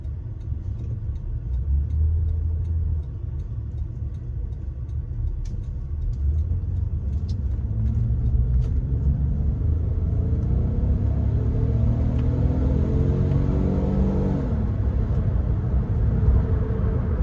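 Interior of a 2002 Buick Park Avenue accelerating up to 60 on a test drive, a low steady engine and road rumble rising gradually in pitch with light ticking, no talk.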